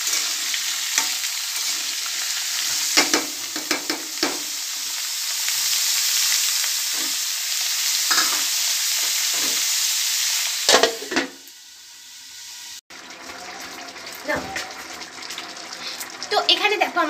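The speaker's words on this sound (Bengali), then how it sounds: "তো বিট গাজর মটরশুঁটি সব একসাথে দিয়ে দিয়েছি, দিয়ে এখানে একটু লাল লাল করে ভেজে নেব।" Beetroot, carrot and peas fry in a pan, a steady sizzling hiss broken by repeated scraping stirs and utensil knocks, with a quieter patch near the end where the sizzle drops and stirring clatter resumes.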